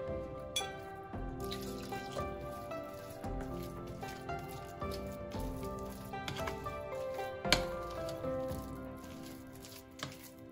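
About 150 ml of water is poured into a sattu flour mixture for an Indian breakfast, giving a continuous trickling and dripping over about ten seconds, moderately close, with faint tonal background sound underneath.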